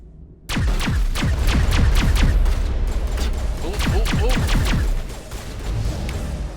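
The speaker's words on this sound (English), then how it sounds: "Let's try out our Geth pulse rifle" A Geth pulse rifle fires in Mass Effect Legendary Edition as a loud, rapid stream of sharp energy shots with falling zaps, sustained for several seconds before briefly easing off.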